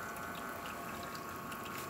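Water shower from the group head of a Lucca 3701 espresso machine at full pressure, a steady, faint hissing flow with a constant tonal hum beneath and no speech.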